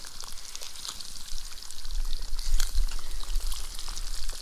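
Trout fry crisply in a pan, a steady close hiss and crackle of hot oil running throughout with no voices, the sizzle swelling slightly partway through.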